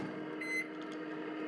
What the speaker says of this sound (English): Microwave is working.